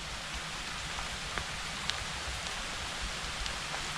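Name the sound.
rain falling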